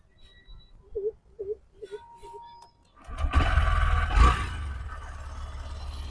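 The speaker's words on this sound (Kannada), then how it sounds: "ಬೈಕ್ ಸ್ಟಾರ್ಟ್ ಮಾಡಿ ತೋರಿಸ್ತೀನಿ, ಸೌಂಡ್ ಕೇಳಿಸ್ಕೊಳ್ಳಿ." A Honda SP125 motorcycle starts after a quiet stretch of brief wavering tones, and its engine then falls into a steady, close idle rumble.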